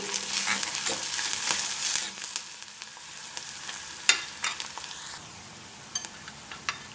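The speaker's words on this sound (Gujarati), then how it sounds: "થોડા ટ્રાન્સપરન્ટ થાય ત્યાં સુધી જ આપણે કાંદાને સાંતળવાના છે" Sliced onions sautéing in a pan until translucent: a soft continuous sizzle runs throughout, punctuated by sharp clicks and scrapes of a spoon stirring, with no talking.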